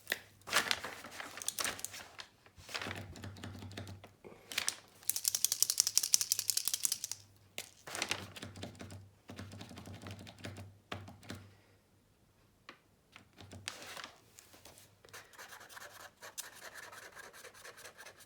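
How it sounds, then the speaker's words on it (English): Hard nylon-nib acrylic paint marker scrubbing back and forth on paper, a dry raspy rubbing in bursts of strokes with short pauses, close and fairly loud with no talking. "if I keep scrubbing over and over in the same place, it's tearing up the surface"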